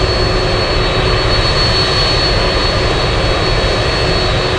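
Aircraft on the runway at Anchorage airport, a steady loud roar of jet engines with a constant whine, unbroken and fairly close, no talk.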